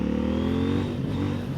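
A CF Moto 800NK motorcycle revs hard under acceleration into a wheelie, its mid-pitched engine note climbing steadily and loud and close throughout, with no talk.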